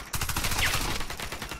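Rapid automatic gunfire from the shooter game Warface, a fast burst of repeated cracks running almost the whole time, close and fairly loud, with no speech over it.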